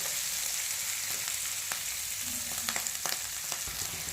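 Chillies frying in a pan for a tangy, spicy mixed-vegetable dish: a loud, steady sizzle fills the clip, broken by a few clacks of stirring near the end, with no talking.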